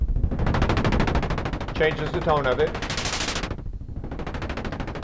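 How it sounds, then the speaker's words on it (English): Helicopter effect built from pink noise out of a Q110 noise generator on a modular synthesizer, a loud, dense rushing roar with rhythmic chopping pulses that brightens and swells, while someone talks over it. "And that's making a helicopter sound."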